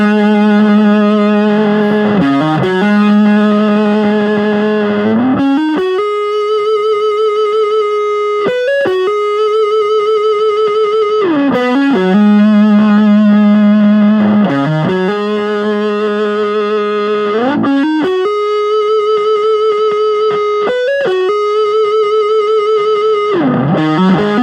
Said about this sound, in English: now the other guitar is going to turn on the distortion